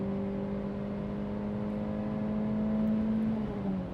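Renault Clio RS Gordini four-cylinder engine revving up, a steady droning hum with a tone that climbs slowly in pitch, heard close from inside the car with no talk.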